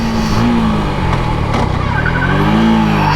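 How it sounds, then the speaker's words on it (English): Rear tyre of a 2019 Suzuki Gixxer SF 150 motorcycle with single-channel ABS briefly skidding under hard braking, a steady loud engine and road roar with a rising tonal squeal near the end. "there I skidded the rear brake a little bit"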